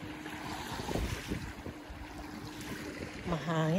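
Steady wind blows and buffets close to the microphone, with a brief engine-like hum near the end.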